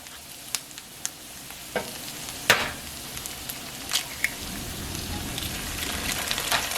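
Eggs frying in a pan with tortillas and onions give a soft, steady sizzle, with scattered sharp crackles and pops over the constant hiss.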